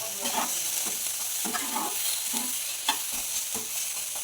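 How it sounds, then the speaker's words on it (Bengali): Pasta fries with turmeric and salt in a pan, a soft steady sizzle broken by regular scraping stir strokes roughly every half second, close and fairly quiet with no voices. "হলুদ দিয়ে খুব সুন্দর করে নাড়াচাড়া করে ভালো করে এটাকে ফ্রাই করে দিচ্ছি"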